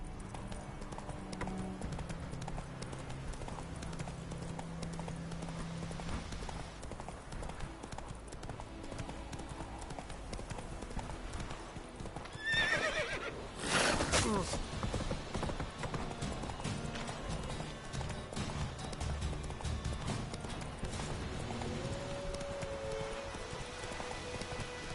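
Roach, the horse in The Witcher 3, gallops with steady rhythmic hoofbeats over a continuous game soundscape, with a brief louder burst midway. A voice speaks now and then.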